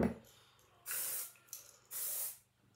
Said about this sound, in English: Sprayed her all over.